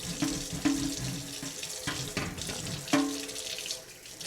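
Tap water runs into a kitchen sink while stove grates are scrubbed, a steady splashing stream broken by several clanks and knocks as the metal grates shift in the basin, close and fairly loud.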